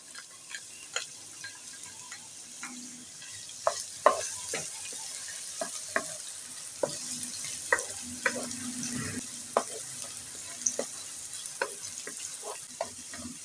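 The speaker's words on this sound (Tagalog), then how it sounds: "Ipainit po natin yung mantika sa kawali at igigisa po natin ang ating bawang" Garlic and onion sautéing in hot oil in a pan make a quiet, steady sizzle, punctuated by frequent light ticks and taps of a utensil stirring, with no voices.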